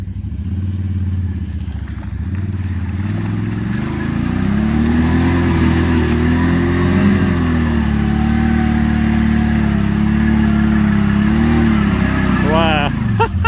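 A Can-Am Outlander 570 ATV churns through deep, quicksand-like trail mud, its engine droning steadily and rising under load, loud and close, while people talk over it.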